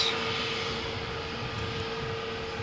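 Airliner taking off from runway 13 at Malaga Airport on a stormy morning, a steady broad engine roar with a faint high whine, held at even loudness throughout.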